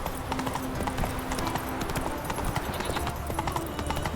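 Steady clip-clop of the horse Roach's hooves in The Witcher 3: Wild Hunt, a rhythmic trot running throughout with a brief whinny-like tone, close and moderately loud.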